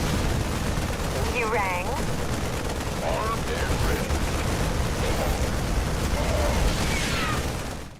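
StarCraft II: Wings of Liberty battle audio, dense continuous gunfire and explosions with clattering mechanical noise, loud throughout, with brief game voice lines over it.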